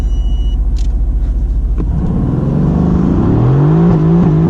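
A Mercedes-AMG GT C makes a loud wheel-spin launch from a standstill with traction control off: a steady idle rumble, then an abrupt surge of revs climbing through the gears, close and powerful, with no talking.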